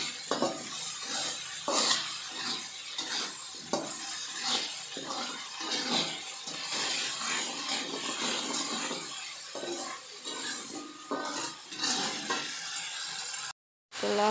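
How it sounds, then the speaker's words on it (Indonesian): Tomato and spices being stir-fried for water spinach, a continuous close sizzle broken by repeated scraping and clinking of a spatula against the pan in an uneven rhythm, with a brief silent cut near the end. "Tumis sampai harum."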